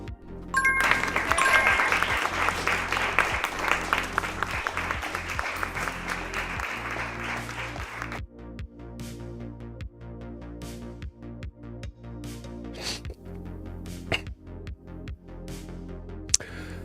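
Canned applause played from a soundboard button: a dense crowd clapping for about eight seconds, then cutting off to sparse scattered claps and faint hum.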